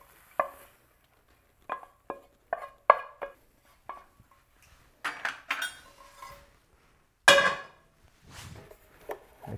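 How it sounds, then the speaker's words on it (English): Cooked vegetables stirred together in a mixing bowl, spaced clinks and scrapes of a utensil against the bowl, some sharp and some softer, with quiet pauses between them. "Mix that in this mixing bowl."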